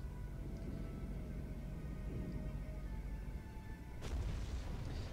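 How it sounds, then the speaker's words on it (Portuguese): Naval fleet in Total War: Warhammer 2 firing a barrage of shots into the surrounding water: dense low rumbling cannon fire throughout, with a sharper, louder burst near the end. "a frota Camrian começou a atirar uma erupção de tiros na água que estava em volta deles."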